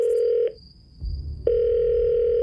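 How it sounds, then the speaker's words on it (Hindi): A telephone dial tone while placing a call, a steady loud tone that cuts off briefly, leaves a short low rumble, then resumes continuously to the end. "अपनी लड़खड़ाती उंगलियों से बिल्डर को फोन लगाया।"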